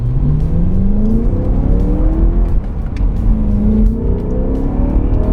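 A BMW E90 M3 engine revs hard, its note climbing in pitch as it pulls, dips briefly, then climbs again; steady, loud and close with no talking.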